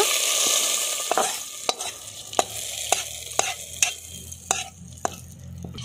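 Fried onions being stirred into a pot of beef paya, a steady sizzle broken by a series of sharp spoon-on-pot scrapes and clinks at an uneven rhythm, close and alone with no voices.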